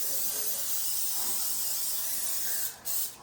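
A steady hiss of cooking spray from an aerosol can onto a cupcake tray fills the clip, cutting off briefly before one last short burst.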